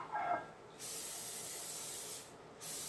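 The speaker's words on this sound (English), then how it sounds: "I'm going to spray it with my butter flavored cooking spray all around." Butter flavored cooking spray hissing from a can into a casserole dish, two sustained bursts with a short pause between, after a faint clink, close and fairly quiet.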